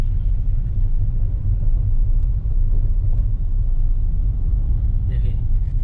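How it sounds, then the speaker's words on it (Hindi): A vehicle engine rumbles steadily on the road during an overtake, a low continuous drone close by with someone talking over it. "देखिए बिल्कुल आराम से ओवरटेक कर रहे हैं"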